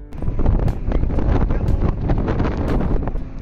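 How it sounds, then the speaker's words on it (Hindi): Strong gusty wind buffets the microphone on the open deck of a DFDS cruise ship sailing from Oslo to Copenhagen, a loud, rough, continuous rumble with flapping bursts and no clear voices. "इतनी ज़्यादा हवा चल रही थी सो मेक श्योर जब भी आप ओपन डेक पे आओ आप अपना हेयर टाई कर लेना"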